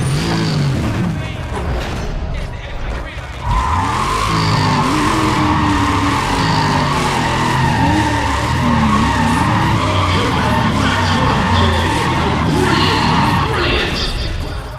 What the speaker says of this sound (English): there's the roar of the engines